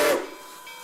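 Steam locomotive 765 sounds its whistle, a loud hissing steam blast that quickly trails off into a fading, airy tail.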